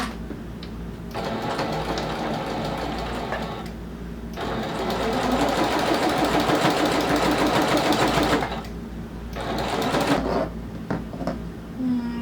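A sewing machine runs in long, close, steady bursts while sewing an eighth-inch seam on a small handbag, with two short pauses between runs.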